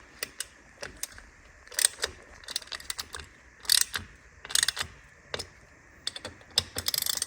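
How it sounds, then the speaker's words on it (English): Quarter-inch drive ratchet clicking in short irregular bursts as it tightens titanium Akrapovic exhaust bolts on a BMW R NineT Racer, close, crisp and fairly loud, with brief pauses and no speech. "So I'm going to swap over to a quarter drive ratchet now."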